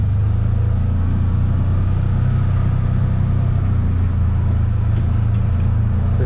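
A Polaris Ranger 1000 utility vehicle drives along with a loud, steady engine rumble and drone close by, running continuously without talk.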